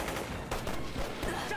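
Rapid bursts of gunfire in a Chinese war film battle scene, dense and crackling over a short stretch with rumbling background noise.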